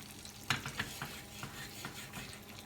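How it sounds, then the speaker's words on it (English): Eggs sizzling in hot oil in a stainless steel pan while being stirred and moved around, with close scraping taps of the utensil over a constant crackle. "Just move it around a bit, get that hot oil kind of all over the eggs."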